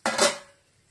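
A metal lid lifted off a covered pan of jackfruit stir-fry (idichakka thoran) cooking on low heat, giving a single short clatter with a brief metallic ring that fades within half a second.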